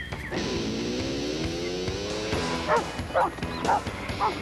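Several sheepdogs bark and yip in short bursts, a run of sharp high barks close by against a steady background of lower dog vocalising and whimpering.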